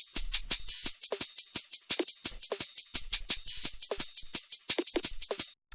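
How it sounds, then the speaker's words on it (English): Drum and bass hi-hats and percussion playing together as a busy, steady rhythmic loop of crisp ticking and shaker-like hits with occasional pitched clicks, loud and close, with no talk. "After that, we have the hi-hats,"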